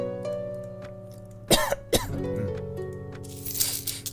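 Two sharp, close coughs come about half a second apart, with a brief rough follow-up, over steady background game music with sustained tones.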